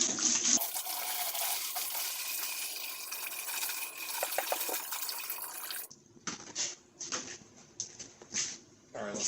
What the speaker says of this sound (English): I just saved a couple of old antifreeze jugs and I fill them up with water